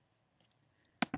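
Two sharp computer mouse clicks close together near the end, preceded by a few faint ticks, as a WordPress text widget is saved; nearby and otherwise quiet.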